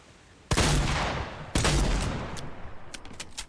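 Two loud, close blasts from a heavy shotgun in Fortnite, about a second apart, each decaying into a rumbling tail, followed by a few faint clicks.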